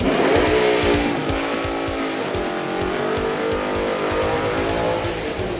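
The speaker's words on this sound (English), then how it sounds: "Nice burnout." A loud 1969 Buick Skylark drag car engine roars at high revs while the tires spin and squeal in a sustained burnout, close and continuous with no speech.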